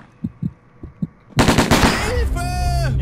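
In the video game Alekhine's Gun, a firefight opens with a few soft muffled thumps, then a burst of loud rapid gunfire with ringing and whizzing tones, dense and close.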